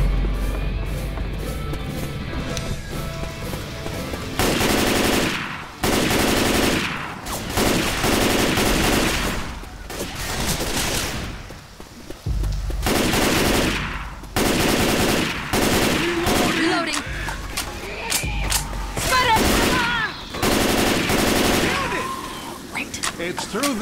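Rifle fire in the Left 4 Dead 2 zombie shooter, set in a police precinct, with repeated loud bursts of shots broken by short pauses, close and heavy, while game characters speak between volleys.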